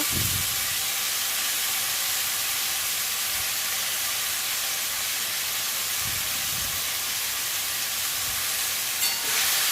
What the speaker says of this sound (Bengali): তো আলুটা ভেজে নেব।